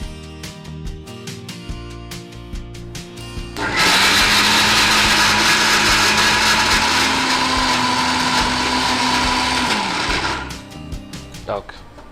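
A mixer grinder whirs loudly and steadily for about six seconds, grinding cooled chana dal into a paste for holige, then winds down. Brief talk and kitchen clatter come before and after.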